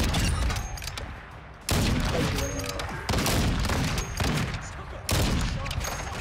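Rapid gunfire in a Call of Duty-style shooter, with repeated loud bursts of shots arriving in clusters against a busy battle backdrop, and voices talking faintly underneath.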